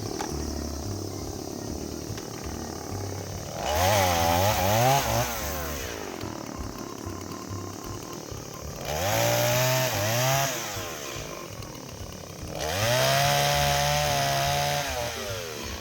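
A chainsaw cuts thin firewood strewn on the ground, with three loud bursts of cutting at roughly even intervals, each rising over a lower idling engine that runs throughout.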